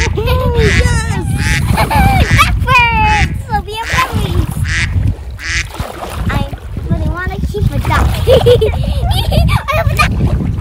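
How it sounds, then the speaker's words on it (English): Ducks quacking near a kayak on a dam lake, repeated calls mixed with splashing water while a child and an adult talk over them throughout. "Oh, I see two ducks now."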